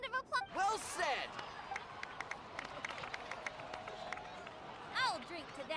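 Crowd clapping and cheering in Genshin Impact, a dense wash of applause running steadily under game voices that speak at the start and end.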